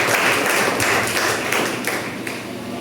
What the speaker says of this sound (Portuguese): Aplauda o Senhor Jesus, amados.